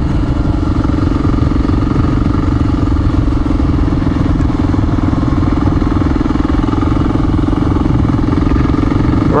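A Honda XR400R motorcycle rides a forest service road, its engine holding a loud, steady, close drone throughout with no break or voices.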